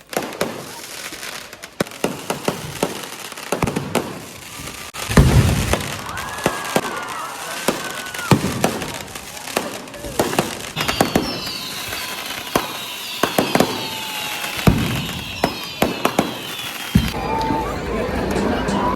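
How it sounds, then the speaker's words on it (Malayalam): Grand fireworks display at a church feast courtyard in Kerala, with loud repeated booming bursts and crackling reports, some near and sharp, over crowd babble and voices. "പിന്നീട് അങ്ങോട്ട് ഗംഭീര വെടിക്കെട്ടായിരുന്നു."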